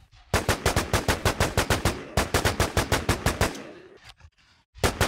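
Rapid bursts of gunfire from a weapon shooting a boss in the online survival game Infestation, loud and close, a steady string of sharp shots that breaks off briefly and then resumes with a final short burst.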